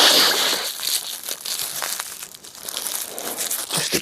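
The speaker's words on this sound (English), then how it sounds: "We've also got a bit of tissue paper." Tissue paper from a supermarket Christmas cracker crinkles and rustles steadily and close up, with dense crackling bursts throughout and no talking.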